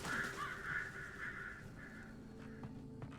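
Crows caw several times in the Alan Wake video game, a run of harsh, fairly loud calls in the first couple of seconds, followed by a quieter stretch with faint clicks.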